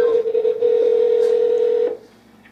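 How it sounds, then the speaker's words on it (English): A phone call ringing tone plays through a small Bluetooth speaker, a single steady electronic tone lasting almost two seconds before cutting off, loud and clear. "All right, the phone should be ringing."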